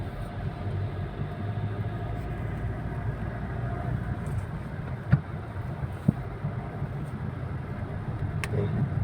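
A homemade car steered with a handlebar drives along outdoors. A steady low engine and road rumble runs throughout, with a couple of sharp knocks and clatters in the middle and no talk.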